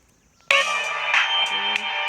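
A bright, sustained electronic chime from a GTA San Andreas game startup swells in suddenly after a moment of near silence, with layered tones and small accented pulses, loud and alone.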